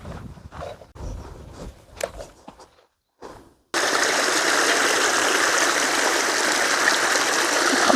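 Scattered footsteps and rustling give way to the loud, steady rush of a stream's flowing water, continuous and close for the last several seconds.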